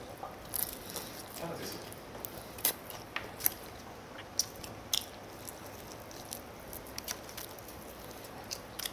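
Old-style whole fried chicken is chewed up close, with crisp, irregular crunching bites and smacking that repeat every second or so over a quiet room.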